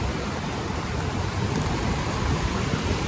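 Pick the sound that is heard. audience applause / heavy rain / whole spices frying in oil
heavy rain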